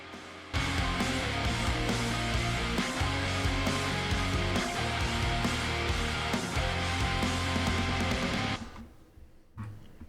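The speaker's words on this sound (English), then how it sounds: "The reverb by itself sounds like this." A soloed reverb return from a Tone Boosters plugin carries a dense, washy wall of sound with a steady low pulse, running full for about eight seconds before decaying into a fading tail.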